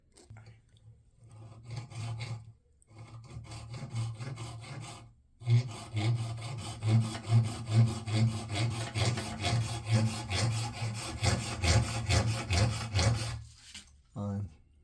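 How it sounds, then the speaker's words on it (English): Steady back-and-forth rasping of a hand saw marking cuts in wood for a freezer compartment door repair, close and fairly loud, in repeated strokes with brief pauses between bursts. "I'm not sawing it all the way, it's just to mark them."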